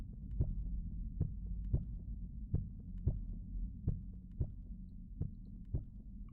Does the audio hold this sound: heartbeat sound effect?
yes